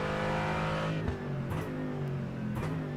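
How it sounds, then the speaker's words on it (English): A Mercedes GT4 race car's V8 engine revs hard in a sim race at Spa-Francorchamps, a loud close steady drone that dips briefly on gear shifts before climbing again, with no voices. "Love the sound of this Mercedes, that brutal V8 engine."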